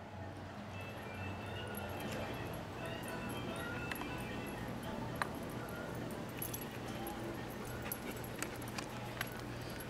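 A dog whimpers and whines softly in short bursts, with faint jangling and shuffling in the background.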